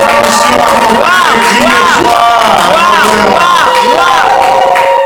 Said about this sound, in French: Est-ce qu'on peut acclamer plus fort?